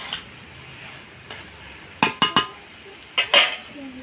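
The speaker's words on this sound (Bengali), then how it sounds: "বাঁধাকপি দিয়ে অনেকটা কষিয়ে নিয়েছি" A low sizzle of cabbage sautéing in a pan sits under sharp metal clinks. A spoon strikes and scrapes the pan in a quick cluster of knocks midway, then two more near the end.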